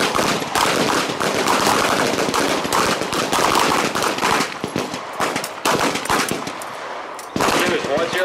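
Rapid, overlapping rifle gunfire on an army basic combat training firing range at Fort Leonard Wood, Missouri: dense, loud volleys of shots with brief lulls, close and sustained throughout.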